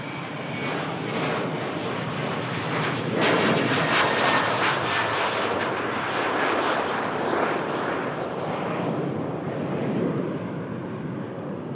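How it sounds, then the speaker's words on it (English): A TUI Boeing 737 jet on its takeoff roll at Manchester Airport gives a loud, steady engine roar that holds and swells slightly, heard alone without talk. "and now on the takeoff roll. This TUI 737, Kilo Sierra on the registration,"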